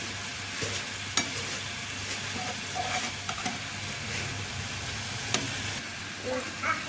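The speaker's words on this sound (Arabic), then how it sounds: "هنقلب كده لسه شويه اهو" Spinach rice with vermicelli being stirred in a pot, a steady soft sizzle with scraping spoon strokes and occasional clinks running throughout, fairly close and continuous without talk.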